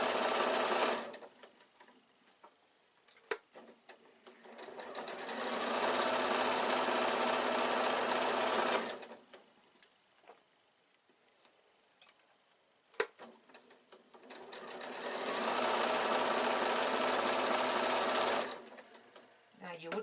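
A domestic sewing machine stitches a quilted evening bag flap in two long, steady runs, close and fairly loud, separated by a quiet pause with small handling clicks and a brief voice.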